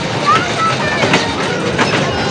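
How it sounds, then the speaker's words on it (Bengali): A train pulls into a station, its rumbling wheels and clatter filling the scene close by, with a brief squeal and people talking over it. "এই যে ট্রেন আসছে"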